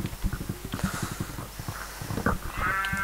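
Sheep bleat in the Minecraft video game, several short calls overlapping with clip-clop footsteps and game sounds, fairly loud and close.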